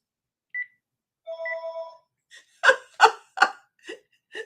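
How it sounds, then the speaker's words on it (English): A telephone rings in a few short tonal bursts, then gives way to breathy gasps or laughter-like sounds. "and the phone rang"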